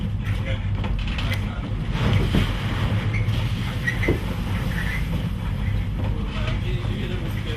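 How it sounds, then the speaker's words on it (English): Force 8 storm seas with 5-metre waves strike the bows of the research ship Commander Iona, a continuous loud low roar of wind, water and engine with surging swells, and faint voices in the background. "5-meter high waves furiously lashed the ship's bows."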